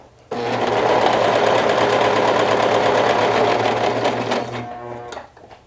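A sewing machine stitches slowly through several layers of fabric, a loud, steady motor drone with a rhythmic needle pulse that runs for about five seconds before winding down and stopping.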